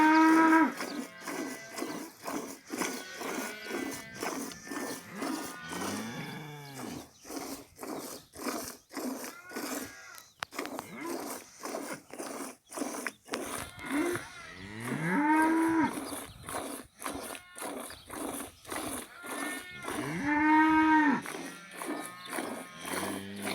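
A village cow moos repeatedly, loud and close, with long drawn calls separated by short pauses over the full stretch and no talk.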